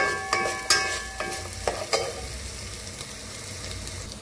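Garlic stirred into a pot of frying rice for South Indian kushka, several sharp clatters of a spoon against the pot over a soft ongoing sizzle, close and with no voices.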